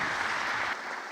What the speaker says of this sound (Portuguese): Queria que você desse uma salva de palmas.